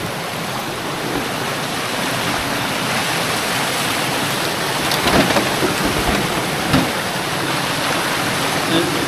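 Water flowing between stones in a shallow stream, a steady broadband rush with splashing, close and continuous throughout, with occasional louder splashes.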